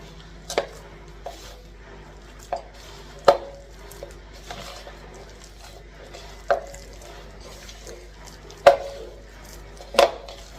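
Fataya dough being mixed in a bowl after milk is added, with sharp irregular knocks and taps of a utensil against the bowl over a quiet background, close by.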